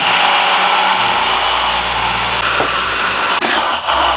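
An electric blender mixing a Cajun-spiced marinade with vinegar and oil, a loud, steady, close whirring roar running throughout, with slight dips in the motor sound toward the end and no talk.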